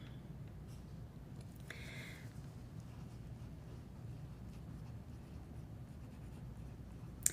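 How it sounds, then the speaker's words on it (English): A pencil writes in a book: soft, continuous scratching strokes that stay quiet and close, with a brief brighter scrape partway through and a small tap at the end. "So what I do is I just start writing in my book."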